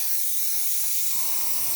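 A paint sprayer sends out a steady, close, fairly loud hiss of spray that holds evenly for under two seconds, with no voices over it.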